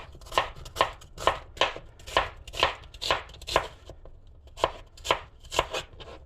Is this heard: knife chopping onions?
yes